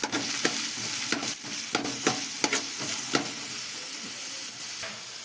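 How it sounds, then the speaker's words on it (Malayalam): Sliced onions sizzle in hot oil in a pan while a spoon stirs them, giving a steady crackling fry broken by sharp scraping and tapping strokes, close and fairly loud with no talk. "അപ്പോൾ ഇതാ സവാള ഇട്ട് സെറ്റാക്കിയിട്ടുണ്ട്. നമുക്ക് ചെറുതായിട്ടൊന്ന് ഇളക്കി കൊടുക്കാം."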